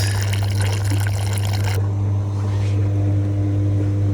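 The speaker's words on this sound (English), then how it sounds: "So what I'm going to do, put some hot water down it." Hot water poured down into an AEG Electrolux condenser dryer that isn't drying clothes, a steady, loud rushing trickle over a constant low hum, with no talking.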